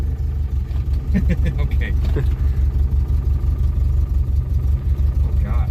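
An old car's engine runs and idles with a steady low rumble and slight surging, loud and close, while a person briefly speaks over it.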